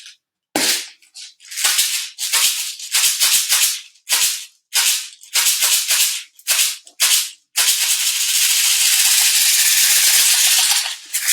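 Homemade shaker made from grains inside a lunch container, rattling loudly in sharp repeated shakes at first, then a continuous dense rustling swirl of grains near the end.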